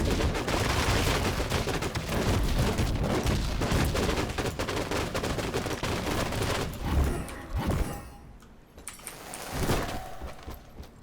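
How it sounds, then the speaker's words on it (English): Gunfire while shooting enemies in the action game Almighty: Kill Your Gods, with loud, dense rapid bursts for about seven seconds, then a few scattered shots and booms. "Let's shoot these guys."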